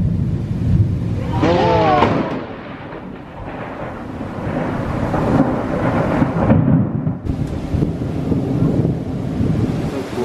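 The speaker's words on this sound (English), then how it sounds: "we're in the midst of a lightning storm" Thunderstorm with rolling thunder, wind and rain, recorded from a cruise ship on the Mediterranean; loud, sustained low rumbles and gusty wind noise with a brief voice near the start.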